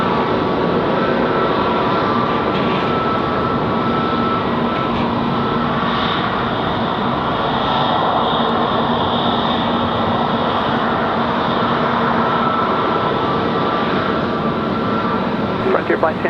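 Airliner roaring down the runway and lifting off at Raleigh-Durham International Airport at night, a steady loud jet-engine rush lasting throughout, with radio-style voices talking over it.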